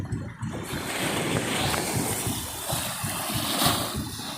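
Rough open sea at a fishing ground in rainy weather, waves washing and surging steadily against a boat with wind buffeting the microphone, a continuous loud roar with no talk.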